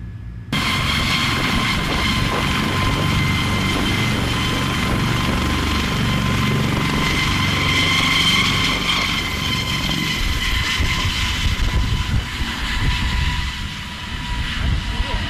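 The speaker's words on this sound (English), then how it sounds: "That and the big windowed airplane." A large airplane with many windows passes overhead, its broad steady roar filling the scene from start to finish at fairly high loudness, with faint voices now and then beneath the engine noise.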